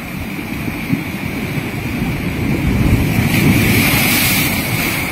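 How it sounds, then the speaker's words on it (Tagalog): Ocean waves roll and churn at sea during a storm, with a dense, loud roar and constant wind buffeting the microphone throughout. "Alon."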